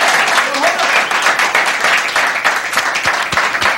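Audience applause rings out in a room, a dense, steady wash of clapping from a crowd lasting the whole moment, with talk audible beneath it.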